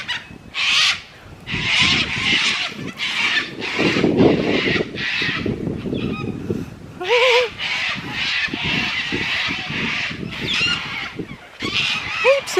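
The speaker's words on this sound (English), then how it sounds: "That is a sulphur-crested cockatoo." Sulphur-crested cockatoos screech repeatedly in harsh, raucous bursts, loud and fairly close, with short gaps between calls along a bushland walking trail.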